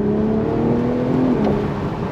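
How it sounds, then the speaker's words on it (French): A BMW Z4 M40i convertible with a 340-horsepower B58 six-cylinder engine and rear-wheel drive accelerates, its exhaust a loud, steady, close droning note with no talk. "BMW a su vraiment bien travailler la sonorité du véhicule"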